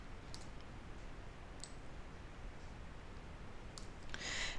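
A computer mouse clicks faintly as a box brush is dragged into a level in Unreal Engine 4, a few soft, widely spaced clicks over a quiet hum, ending in a slightly denser burst.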